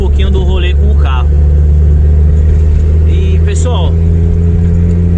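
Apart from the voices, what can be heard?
Chevrolet Opala six-cylinder turbo car driving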